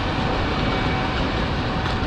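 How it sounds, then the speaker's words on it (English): Electric cargo train covered in graffiti passing by railroad tracks on the Camino de Santiago in Spain, a steady broadband rumble and rush of rail wagons, loud and continuous throughout with no talking. "There goes the train."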